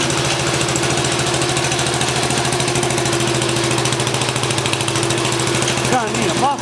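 An old tractor engine that needs rings and a muffler idles loud and near in a steady, rough, knocking chug, with a voice briefly heard at the end.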